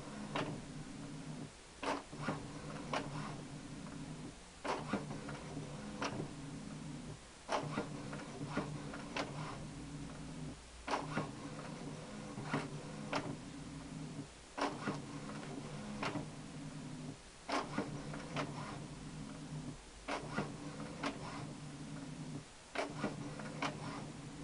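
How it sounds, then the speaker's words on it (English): Kodak inkjet printer printing a calibration sheet: mechanical noise with a steady motor hum, broken by regular clicks and carriage movements repeating every few seconds, a continuous close-up printing rhythm. "now I'm calibrating the printer where it's just printing off a ink confirmation"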